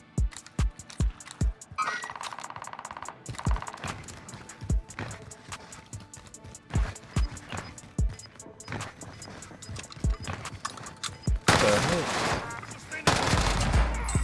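Repeated gunfire in Call of Duty Warzone on Rebirth Island: many sharp close shots and bursts scattered across the stretch, some rapid automatic runs, with a denser roar of noise near the end.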